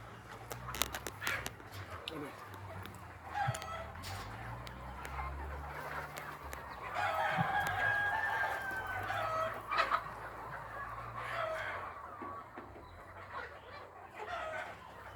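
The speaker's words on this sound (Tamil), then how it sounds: "இது முட்டையிடுற கோழிகள்லாம் வந்து" Laying hens at a poultry farm in Mandoor, Batticaloa, clucking and calling throughout, with a rooster crowing in the middle and a low hum beneath.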